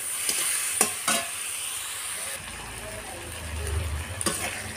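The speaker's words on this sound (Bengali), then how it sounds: "এইভাবে মাছগুলো সুন্দর করে ভেজে নেব।" Small fish frying in a generous amount of hot oil, a steady sizzle with occasional stirring clatters and a soft voice briefly in the background.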